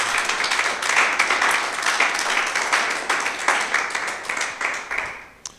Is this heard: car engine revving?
no